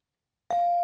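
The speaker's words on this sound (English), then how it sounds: "And that's the bell." A high school quiz show bell ending the toss-up round: after silence, a single clear electronic ding strikes and then holds as a steady, sustained tone.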